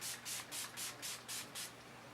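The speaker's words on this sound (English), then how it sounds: "spray it all over my face." Heavy-duty stage makeup setting spray misted onto a face in about seven quick, soft pumps, each a short airy hiss in an even rhythm, close and quiet with no speech.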